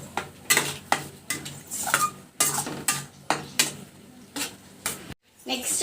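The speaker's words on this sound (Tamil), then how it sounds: "இஞ்சி பூண்டு பேஸ்ட்லேயும் நல்லா நம்ம வதக்கி விட்டுடலாம்" Ginger-garlic paste and tomato are sautéed in a pan, with a spatula clinking and scraping against the metal in quick, irregular strokes. A soft sizzle sits underneath, and there is a short pause near the end.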